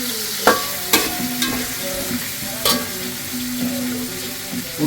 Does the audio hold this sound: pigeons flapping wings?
no